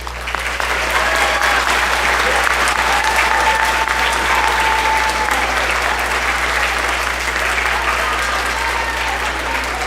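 Many hands clapping together in a school auditorium after an orchestra award, a thick, unbroken roar of audience applause, loud and steady, with faint scattered voices beneath it.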